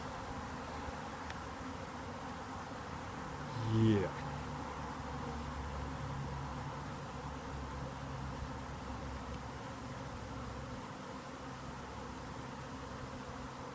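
Buzzing of a honeybee swarm being caught by a beekeeper at dusk, a steady low drone filling the whole clip with a brief louder burst near the start and a single spoken word over it.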